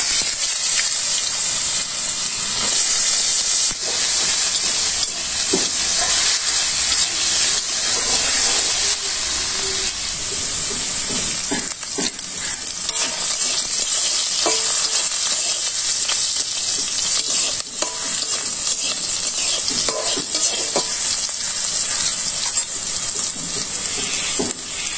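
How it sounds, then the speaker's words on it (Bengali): Potatoes fry in hot oil with cardamom, cinnamon, peppercorns and panch phoron, giving off a loud, continuous hiss and sizzle with occasional stirring scrapes. "আলু আগে ভেজে নিলাম"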